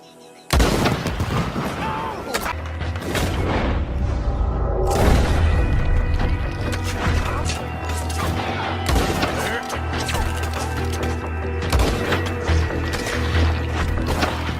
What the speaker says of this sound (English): Soon as you shoot, I'll go.